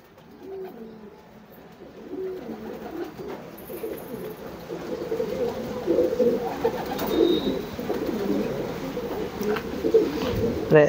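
A first-year young female homing pigeon, checker with white flights, in a loft in Hosapete: soft, steady low cooing close by, with a person talking over it at times.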